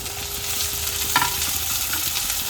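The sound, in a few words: onions and tomatoes frying in a pan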